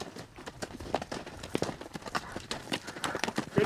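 Horse hooves on a ranch trail ride at Rancho de la Osa make a quick, uneven clip-clop of many close footfalls, fairly near and continuous, with slight rustling between beats.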